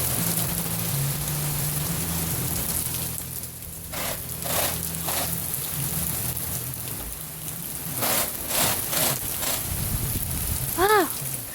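Heavy rain from a storm in Ohio hisses steadily on outdoor surfaces, with brief bursts of voices over the downpour.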